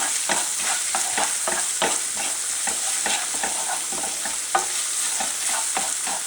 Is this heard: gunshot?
no